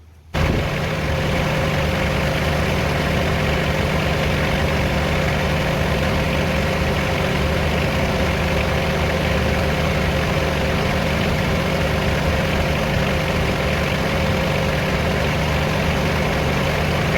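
A sawmill engine idles steadily without pause, a loud, even low rumble with a constant hum that holds unchanged throughout.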